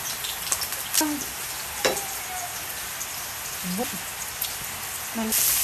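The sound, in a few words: crushed garlic frying in a pan for fried rice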